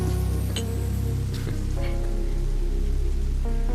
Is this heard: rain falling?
yes